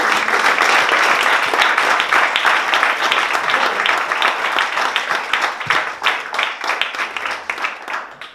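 An audience at a literary tribute event applauds. Dense, loud clapping holds for several seconds, then thins into scattered individual claps as it fades toward the end.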